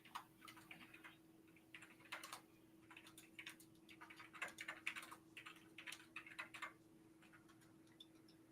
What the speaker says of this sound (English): Clicky keyboards are the best keyboards.